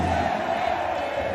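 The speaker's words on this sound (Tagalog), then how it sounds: "Hindi ko lang kung naririnig nila yung crowd ng Pampanga." Loud, continuous roar of a packed basketball arena crowd cheering at an MPBL regular-season game between Nueva Ecija and Pampanga, a dense wall of voices with no break.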